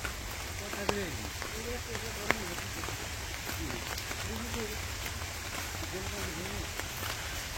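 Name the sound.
rain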